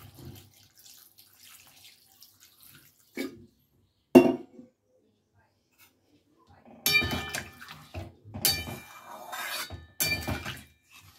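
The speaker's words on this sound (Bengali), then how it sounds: "এবারে দিয়ে দেব জল।" Water is poured into a cooking pot in short bursts, a brief splash first and then several louder gushes, close by among quiet kitchen clatter.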